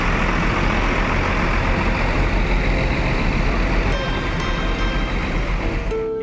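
A bus engine idling at a terminal, a loud, close, unbroken rumble with a faint high whine and light clatter near the end.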